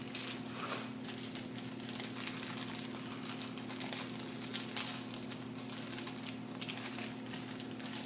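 Plastic bags crinkling and rustling continuously up close, a dense, busy crackle that never stops.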